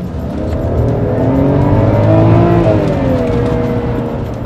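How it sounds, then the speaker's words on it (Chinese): A BMW 523i with a naturally aspirated engine and stock exhaust revs up loud and close while parked in neutral, the pitch climbing to a peak and then easing back down. "它是 NA 的车，我们还是要听一下它的声音。"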